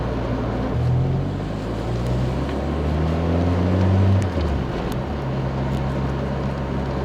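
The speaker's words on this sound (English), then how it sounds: "This car is missing the entire back box of the exhaust system, but honestly, it sounds just fine with one." A Citroen BX that sat for ten years idles with the exhaust back box missing, giving a close, steady, deep rumble whose pitch shifts slightly now and then.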